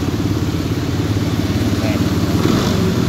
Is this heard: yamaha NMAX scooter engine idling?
yes